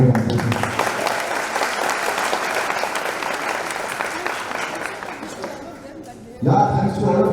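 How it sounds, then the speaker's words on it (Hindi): An audience at a hospital event applauds loudly and steadily for several seconds, the clapping dense and close, then fading as a voice starts talking at the end. "उनके लिए जोरदार तालियां बजाते हैं"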